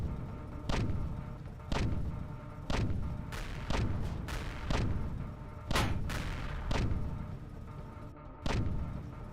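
Ship guns firing in the space video game Empyrion: heavy, booming shots at a steady rhythm of about one per second, around nine in a row, each thud ringing out briefly, loud and close.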